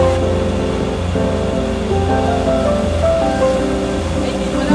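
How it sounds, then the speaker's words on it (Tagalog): A waterfall at Ocean Park in Hong Kong gives a steady, loud rushing wash of falling water, with faint voices and park sounds mixed in. "Ganda niyang waterfalls din."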